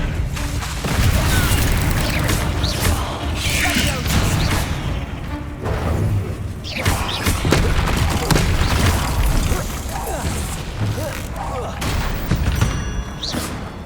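Bombarda and Confringo spell blasts during a Hogwarts Legacy battle on PS5, a chaotic run of booming explosions, thuds and crashing impacts going on throughout, loud and near, with voices shouting between the blasts.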